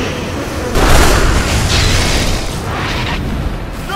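Booming explosive blasts from a tower under attack in the video game Dota 2, a loud rumbling burst that swells and lingers for several seconds without talk.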